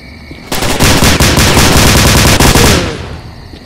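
Loud, close gunfire from a weapon in the video game STALKER: Clear Sky: a rapid rattling run of shots lasting a few seconds before it stops, with no talk.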